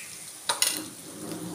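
Turmeric being stirred into onions cooking in a pan for a spinach curry, with a couple of brief spoon scrapes over a steady soft sizzle, close and fairly quiet.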